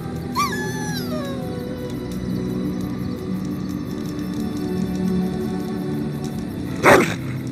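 A dog at a camp in the Dragon Age: Origins video game gives a short yipping bark sequence near the start, then quieter background ambience with a brief burst later.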